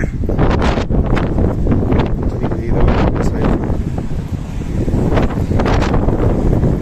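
Strong, steady wind of a sandstorm roars and buffets the microphone without a break, a loud rushing blast with gusty surges throughout.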